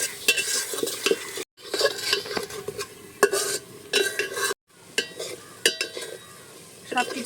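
Spices cooking down in a pot of chicken with a splash of water, stirred with a utensil: steady sizzling under repeated scraping and clinking strokes, close and fairly loud, with two brief pauses.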